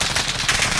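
Rapid automatic gunfire aimed at players in Warzone, a brief loud, dense burst of rattling shots heard up close.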